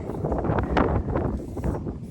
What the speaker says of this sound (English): Here we are at Flinders Chase, and it's super windy.